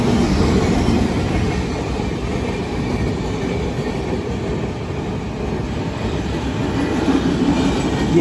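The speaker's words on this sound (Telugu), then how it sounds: "So next Vivek ఎక్స్ప్రెస్తో cross over అయితే అవుద్ది." The Vivek Express, running from Dibrugarh to Kanyakumari, rumbles past at close range in a steady, loud roar of rolling wagons with faint clickety-clack, continuous throughout with no voices.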